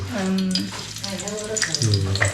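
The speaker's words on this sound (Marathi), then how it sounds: "तेलात लसूण." Garlic sizzles in hot oil in a home kitchen pan, with a bright, crackly frying hiss running under voices speaking nearby.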